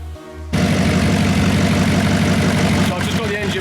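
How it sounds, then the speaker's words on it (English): An Audi R8 engine, freshly rebuilt, idles steadily after starting up abruptly, a continuous low rumbling burble close by, with a slight change in tone near the end. "I've just got the engine burbling away now with coolant in"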